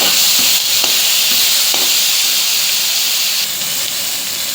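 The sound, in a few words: garlic and tomato sautéing in oil in a pan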